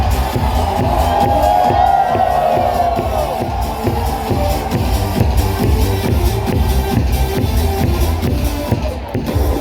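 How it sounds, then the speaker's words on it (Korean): Baseball stadium crowd in Korea roaring and cheering at a Hanwha Eagles game, a dense, loud, sustained wall of voices with rhythmic chanting pulses and a public-address voice riding over it. "더큰 함성과 함께"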